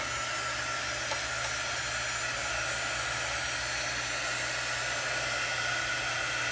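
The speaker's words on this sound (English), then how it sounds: "All right, so now we will blow dry this for just a second." A hair dryer blows on a freshly made votive candle block, a steady, close, unbroken whir that holds at one level throughout, with no voices.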